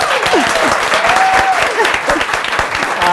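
An audience claps together at a weekend campus talk show, a dense burst of applause under which faint whistles and calls rise and fall.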